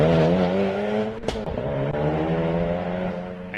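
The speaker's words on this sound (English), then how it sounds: "Here we go, revs rise." Honda Civic Type R race car engine revving hard at a rally stage climbing a hill, a loud, steady high-pitched whine with a brief drop in revs midway before pulling strongly again, close and continuous.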